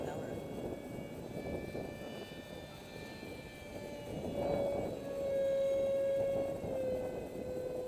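A Delta MiG radio-controlled model jet flies overhead outdoors, its thin, high engine whine rising and holding a steady tone as it passes, moderately distant, with a light breeze.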